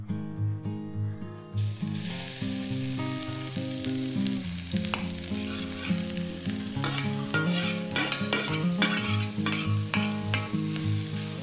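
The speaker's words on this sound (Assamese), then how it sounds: "মাজে মাজে দি থাকিম, ভাজি থাকিম গাজৰখিনিত, আৰু তাত মই অলপ অলপ ঘিউ দি থাকিম" Grated carrots fry in ghee in a pan for carrot halwa, a steady close sizzle with repeated scraping strokes of a spoon stirring through them; no voices.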